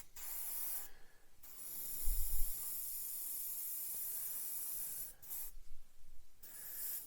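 Spray paint dusting a plastic Revell Lockheed Ventura PV-1 model kit, steady close hissing bursts with short pauses between passes, no voices.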